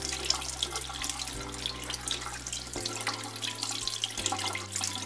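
Running tap water streams steadily over a soapy makeup sponge being rinsed in a sink, a close, continuous splashing hiss with small shifts as the sponge moves under the flow; no talking.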